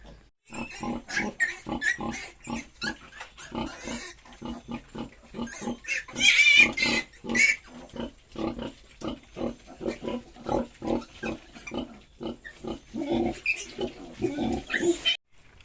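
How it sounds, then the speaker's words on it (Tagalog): Pigs on a farm at feeding time, a group of piglets grunting, oinking and squealing close by in a steady, busy chorus with one louder shrill squeal partway through. "magpapakain tayo ngayon mga master para makita nyo ang aking mga alagang baboy"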